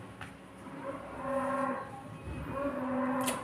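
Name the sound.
cow mooing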